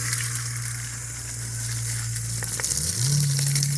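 Water rushing and splashing while a chick brooder is rinsed out, a steady close sizzling wash over a low motor hum whose pitch shifts near the end.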